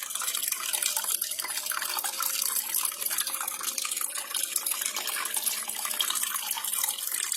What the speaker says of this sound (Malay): Dari akuarium ini, air akan disedot dari motor melalui getah paip untuk mengalirkan air ke pokok sayur-sayuran ini.